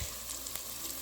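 Shallots and onion sizzle steadily in olive oil in a cast iron Dutch oven, a continuous bright crackling hiss with no voices.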